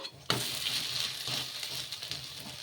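Gothuma ravva and sago dosa frying in oil on a pan, a steady close sizzle and crackle that starts abruptly and holds at a fairly even level with faint stirring noises.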